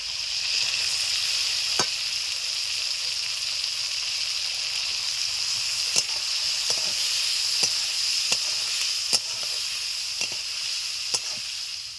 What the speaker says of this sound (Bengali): চিংড়ি মাছগুলো প্রায় ভাজা ভাজা হয়ে আসছে। এখন দিয়ে দেবো পেঁয়াজ রসুন আর কাঁচা লঙ্কা